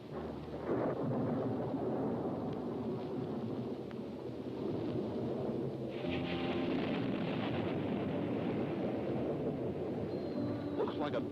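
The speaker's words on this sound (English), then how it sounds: "Looks like a storm brewing." A storm builds with a deep, continuous rumble of thunder and rushing wind, sustained and heavy throughout.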